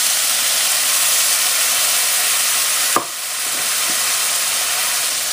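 Marsala cooking wine hits a hot pan of mushrooms: a steady loud sizzle and hiss runs throughout, with a sharp splash as the wine goes in, then the frying settles and continues.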